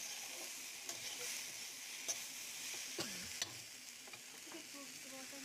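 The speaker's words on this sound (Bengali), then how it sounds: "আমি ভালোভাবে মশলাগুলো ভেজে একটু তরকারিগুলো কষিয়ে নিচ্ছি" Spices and vegetables frying for a catfish curry, a soft continuous sizzle with occasional spoon scrapes and clicks as they are stirred, close but fairly quiet, with no speech.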